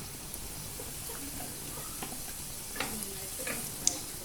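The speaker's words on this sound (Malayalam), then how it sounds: "നല്ലതുപോലെ ഇത് വഴറ്റിയെടുക്കണം." Chopped onions sauté on low heat in a pan for chicken cutlet, producing a faint, steady sizzle with a few light ticks and spoon taps near the end, and no one speaking.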